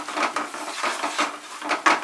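Spice paste for Bengali-style katla fish stirred and fried in a pan, with quick rhythmic scraping strokes of a spatula over a soft sizzle, close and alone.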